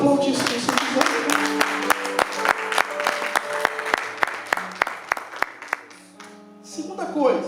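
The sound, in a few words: church congregation applauding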